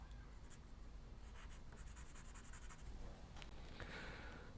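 A pencil draws on a sheet of paper in continuous scratchy strokes, close and quiet, with no voices.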